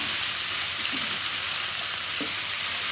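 Food sizzling steadily in a hot pan while being stirred, a continuous close frying hiss with a couple of soft scraping stirs, no voices.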